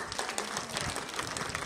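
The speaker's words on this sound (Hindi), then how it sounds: "जोरदार तालियां," Brief burst of audience clapping at a women's village gathering in a rural hall, dense and fairly loud, lasting under two seconds without talk.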